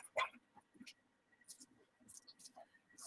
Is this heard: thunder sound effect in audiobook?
no